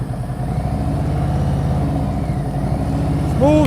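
Motorcycle engine idling and throttling steadily while slow-speed riding comes to a smooth stop, a close, continuous low rumble throughout.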